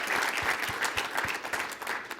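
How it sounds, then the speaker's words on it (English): A crowd at an awards ceremony applauds for a pole vaulter's coaches and supporters, a brief burst of dense clapping with a few sharper individual claps standing out. "So round of applause for them."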